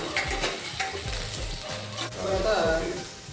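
Two spoonfuls of finely chopped garlic frying in two tablespoons of hot oil for Mongolian chicken, a loud steady sizzle with stirring scrapes close up.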